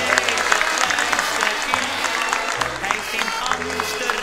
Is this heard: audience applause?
yes